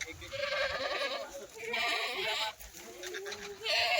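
Kathewadi goats loaded on a truck bleat in repeated bursts, several calls overlapping across the stretch, fairly close and loud over a rough, noisy background.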